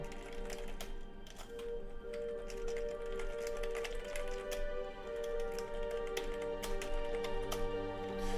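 Rapid, uneven clicks of computer keyboard keys typing a console command while playing a game, close and fairly quiet over a steady background hum with no voices.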